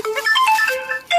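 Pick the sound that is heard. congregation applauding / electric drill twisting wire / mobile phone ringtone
mobile phone ringtone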